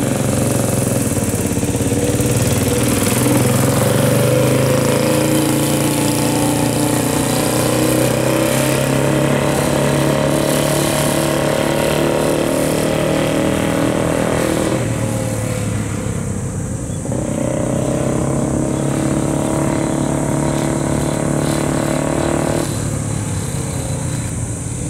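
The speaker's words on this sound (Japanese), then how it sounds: "今度はドリーム E 型が走行してまいります" A 1952 Honda Dream E-type four-stroke motorcycle engine runs loud and close, giving a steady, rumbling drone whose pitch shifts and dips briefly partway through before settling back. No voices are heard.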